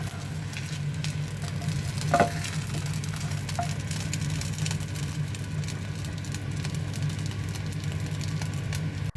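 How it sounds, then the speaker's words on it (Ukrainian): A steady, soft sizzle of potato pancakes frying in a pan continues throughout over a low background hum, with a brief clink partway through. "я смажу звичайні наші деруни"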